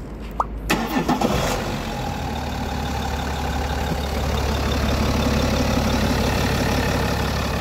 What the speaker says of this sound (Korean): 제가 엔진룸 개폐해서 시동을 걸었는데 어떻습니까? 엔진 소음 어떠셨어요?